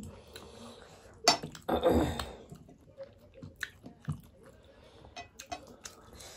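Close, soft chewing and biting sounds of someone eating rice with fish curry, with scattered wet mouth noises and a light clink or two, quiet and intermittent.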